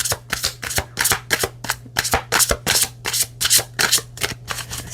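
A deck of cards is riffled and shuffled repeatedly up close, a quick run of crisp fluttering bursts in steady rhythm over a faint low hum.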